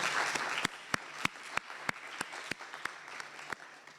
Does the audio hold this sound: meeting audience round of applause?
yes